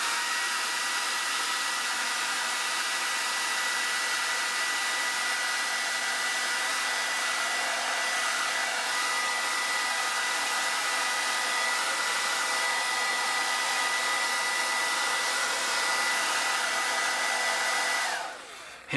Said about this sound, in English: Just going to give this a hairdryer.